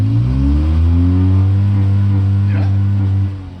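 Modified mini truck engine revving, a loud close steady roar with a slightly rising pitch before it drops off at the end.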